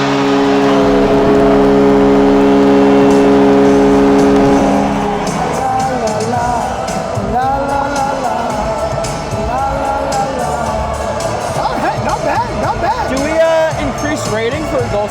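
A hockey arena crowd roars after a goal while the goal song blares over the speakers, a dense wall of cheering and music that continues under excited commentary.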